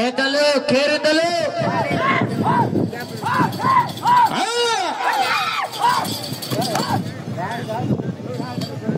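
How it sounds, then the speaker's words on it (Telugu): Crowd shouting and cheering at a village bull race in Anantapur district, Andhra Pradesh, loud and close, with many voices calling out in overlapping bursts under an announcer's voice throughout. "కేకలు, కేరింతలు."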